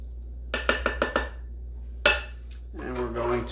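A spoon knocks and scrapes against a Dutch oven while Chinese style chicken is mixed, about five quick clinks, then one louder scrape and a brief clatter, with a voice talking near the end.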